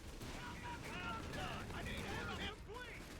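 A grenade strikes a machine gun position in Company of Heroes 3, a burst of explosive blast and rattling gunfire amid continuous battle noise, with a voice talking over the dense, steady din.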